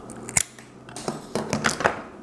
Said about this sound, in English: I'm gonna probably cut mine around that long, just simply with a pair of scissors.